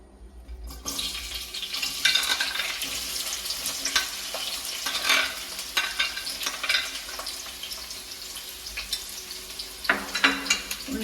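Onions fry in oil in a pan for a Malayalam ridge gourd dish, a continuous crackling sizzle with sharper pops and stirring scrapes throughout, close and steady, no voices.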